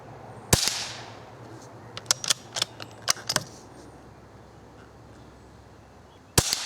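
Suppressed-level .22 gunfire from CCI Quiet-.22 segmented hollow point rounds at an outdoor target range: one sharp crack, then a quick run of about eight lighter snapping shots, and a final crack after a pause, with no talking.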